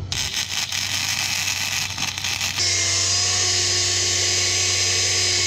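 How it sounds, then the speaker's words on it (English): Flux core welding joins thin metal to thick steel with a continuous, loud, hissing buzz that shifts to a steadier, whinier tone partway through and carries on without pause. "Not my most beautiful welding, but it should definitely be functional."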